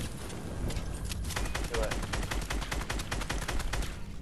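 Rapid bursts of video game gunfire in a fast firefight, dense and continuous with sharp repeated shots, close and fairly loud.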